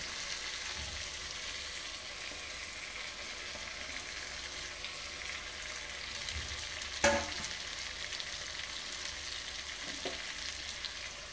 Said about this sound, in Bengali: যে আলুগুলো ভেজে রেখেছিলাম ওগুলো এখন দিয়ে দিচ্ছি